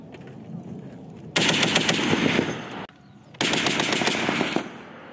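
Crew-served machine gun firing on a live-fire range, two loud sustained bursts of rapid automatic fire, each lasting over a second, separated by a brief pause.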